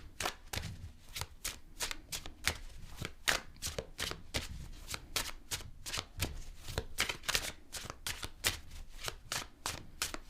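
Tarot cards being shuffled by hand before a reading, a steady run of crisp riffling slaps repeating close up and fairly quiet, with no talking over them.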